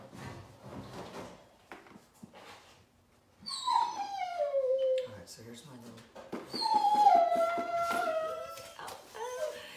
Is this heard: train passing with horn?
no